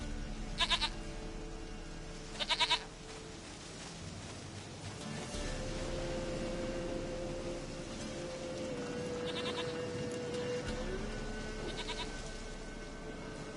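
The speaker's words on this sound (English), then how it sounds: "Goat of mine, dearest, sweetest goat." Goat bleats in The Witcher 3 game world, a few short nasal calls early on over steady ambient game background and music, with a low droning tone later.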